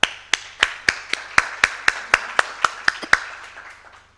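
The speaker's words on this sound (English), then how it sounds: "One more clap." At a panel event on the cost of a healthy diet, about fourteen sharp, evenly spaced claps ring out close by in a steady rhythm, then stop, leaving a quiet room.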